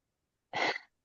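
One short, sharp sneeze, close and alone against silence, bursting out and trailing off quickly.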